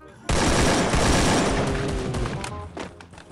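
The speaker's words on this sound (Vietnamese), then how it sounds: "Đó, bắn kìa." Gunfire in a shooting video game erupts suddenly into a loud, dense barrage of rapid shots and booms, easing slightly toward the end with scattered bursts.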